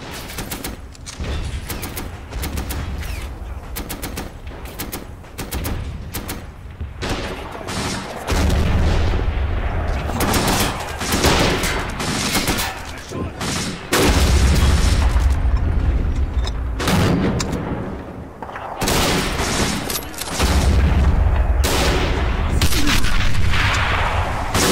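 Artillery fire in the World War II strategy game Men of War, with a Bren gun in action: heavy booms land one after another under constant crackling gunfire, forming a dense, loud battle din that never lets up.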